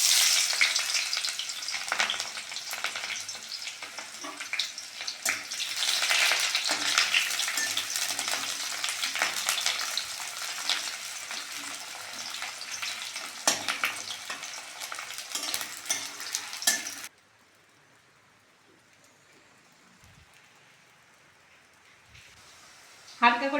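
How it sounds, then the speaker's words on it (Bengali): Chopped onions and two dried red chilies fry in hot oil with a steady, loud sizzle and crackle for about seventeen seconds, then the pan noise cuts off into near silence. "হালকা করে পেঁয়াজটা ভেজে নিয়েছি"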